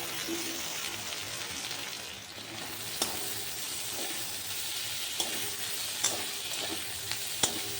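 Onion, green chili and tomato fry in mustard oil with a dense, even sizzle close by, dotted with a few faint clicks of stirring and no voices.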